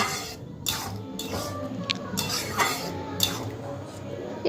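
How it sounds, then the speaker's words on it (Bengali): Boiled moong dal is stirred with spices and prawns in a pan, with soft, intermittent scraping and clinking of a utensil against the metal, close and fairly quiet. "এবার মুগ ডালটা দিয়ে ভালো করে মশলা আর চিংড়ির সাথে মিশিয়ে নেব।"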